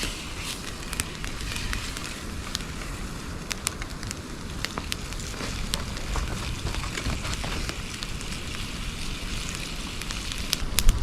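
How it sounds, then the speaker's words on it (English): Steady crackling sizzle with scattered sharp pops, like bacon frying in a pan, continuous and fairly close throughout. "I wanted to test out this enamel plate and see if I could fry in it"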